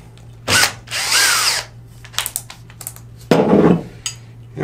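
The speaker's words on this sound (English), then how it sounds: "And then we attach our drill to it." A power drill fitted with a hole-cutting attachment whirs in short bursts on sheet metal, revving up and stopping, mixed with clicks and metallic clatter, over a low steady hum.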